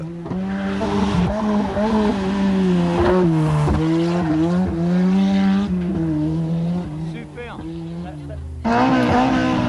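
A rally car at the 1988 Rallye du Mont-Blanc passes at speed. The engine is loud and close, its pitch rising and falling through gear changes, and a second car follows near the end.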